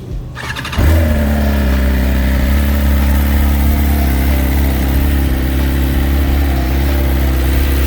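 A 2021 Kawasaki ZX-10R sport motorcycle with stock exhaust cranks briefly, then catches and settles into a loud, steady idle with a slight rev, close by and continuous.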